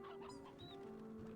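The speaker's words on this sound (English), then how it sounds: "Oh my god, the chickens!" Chickens cluck softly in the video game Slime Rancher, a few quiet clucks and peeps over a steady droning hum.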